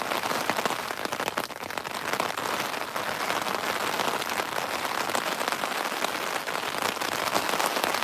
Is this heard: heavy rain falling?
yes